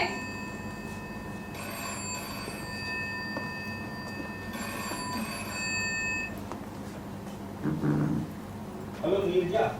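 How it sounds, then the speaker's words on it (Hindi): Old-style telephone ringing in a Hindi stage play, two long trilling rings separated by a pause, followed by brief voices and stage movement near the end. "फोन दिवाकर ने उठाया"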